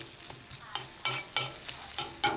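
Vegan Daiya cheese melting in a pan, stirred with a spoon in quick repeated scrapes over a soft sizzle, close and fairly loud.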